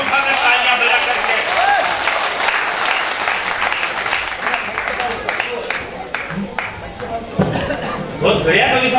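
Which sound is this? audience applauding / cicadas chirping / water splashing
audience applauding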